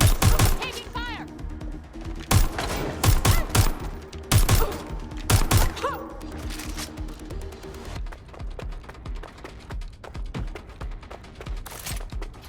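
Rapid bursts of gunfire in Watch Dogs: Legion ring out loud and close in dense volleys through the first eight seconds, then thin to scattered shots over game ambience while a voice speaks briefly.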